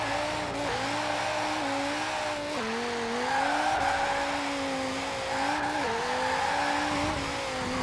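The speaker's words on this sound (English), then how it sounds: "it's safe to say the Dodge Viper sounds cool, it accelerates nicely" A Dodge Viper accelerates in the racing video game Forza Horizon 4, its engine note climbing steadily through several gear changes as a sustained, moderately loud rising whine.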